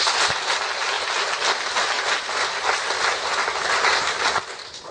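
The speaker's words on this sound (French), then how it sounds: "Il faut encore les applaudir." Wedding guests at a civil ceremony applauding the newly married couple, a dense and steady burst of clapping from a crowd that lasts several seconds and then begins to fade.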